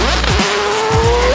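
A 2012-era Aston Martin Vantage V12 engine revs hard and close, its pitch sweeping up to a high shriek and dropping back in quick blips, loud and alone.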